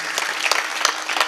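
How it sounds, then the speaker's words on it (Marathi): Audience at a Marathi kirtan breaking into brief applause, a dense wash of hand claps with a few louder peaks, fairly close and without talk. "एकदा त्यांच्याकरता टाळी वाजवा"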